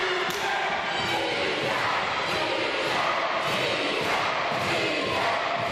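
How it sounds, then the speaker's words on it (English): A wrestling crowd chants steadily during a World Wide Wrestling League match, a dense roar of many voices rising and falling in a rhythmic chant with a commentator's voice faintly mixed in. "And this whole crowd chanting easy."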